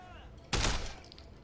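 A gunshot in the Sleeping Dogs game: one sharp, loud, close blast followed by a short decaying tail, with no talking.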